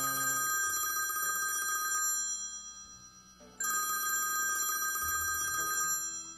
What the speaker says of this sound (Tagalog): Kuya Alden, telepono po, hinahanap ko kayo.